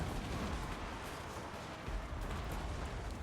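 Cannon fire booms dully and steadily across a large battlefield in Total War: Warhammer II, heavy low rumbling blasts blending into continuous roar of combat.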